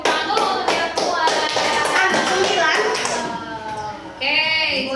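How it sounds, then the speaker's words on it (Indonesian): Schoolchildren in an elementary classroom clap their hands together in a quick round of rhythmic taps, mixed with the chatter of young voices and someone talking near the end. "Oke, tepuk tangan dulu untuk yang kuat."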